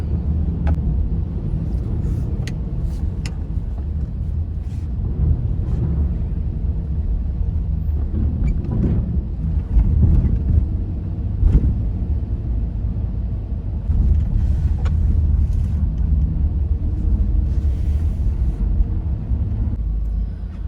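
Car driving off the Seattle ferry, a steady loud low rumble of engine and road noise with a few light clanks and bumps, no talk.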